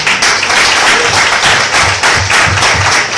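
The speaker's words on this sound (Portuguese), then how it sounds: "Você pode aplaudir o Senhor por isso?" A church congregation applauds during a Pentecostal sermon, a loud continuous wash of many hands clapping with rhythmic low thumps pulsing through it, sustained across the whole stretch.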